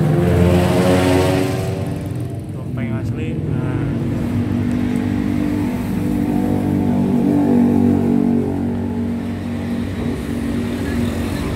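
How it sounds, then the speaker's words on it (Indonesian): A Dompeng diesel engine fitted to a used concrete mixer runs at a steady, throbbing idle, close and loud, with a person talking over it. "Ada dompeng asli."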